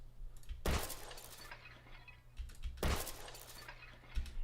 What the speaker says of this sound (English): one more broken glass debris right here